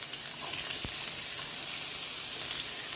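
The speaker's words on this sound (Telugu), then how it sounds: "ఇప్పుడు దీంట్లో ఆనియన్స్, కట్ చేసి పెట్టుకున్న ఆనియన్స్ వేస్తున్నాను" Chopped onions hit hot oil in a pan just used for frying cashews, giving a loud, steady crackling sizzle with one sharp tap early on.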